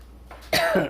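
A single short cough, close by, after a faint throat noise.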